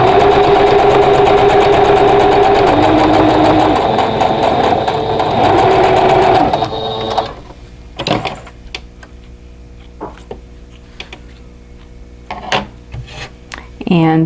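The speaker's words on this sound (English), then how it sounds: "I'm going to flip that around and sew on the other side" A sewing machine stitches fabric for a quilt block with a steady, loud mechanical whir for several seconds, then stops, leaving faint clicks and handling noises.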